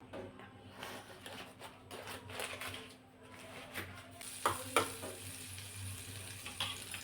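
Maida flour frying in two spoons of butter in a pan for white sauce pasta, a soft close sizzle broken by stirring scrapes and a few sharp clinks, with no voices.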